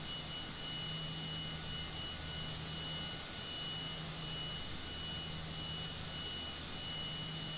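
Steady jet engine hum from an airliner in Microsoft Flight Simulator 2020 on a flight from Dallas Fort Worth to Little Rock, a continuous even drone with a faint tonal whine, no voices.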